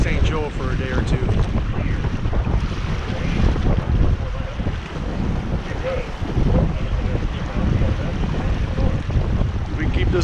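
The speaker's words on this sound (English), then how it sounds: "If we can keep this wind for the next 6 hours, that'd be great." Steady wind buffets the microphone on a sailboat under sail in early summer, with water rushing and slapping along the hull in a loud, continuous roar for the whole stretch.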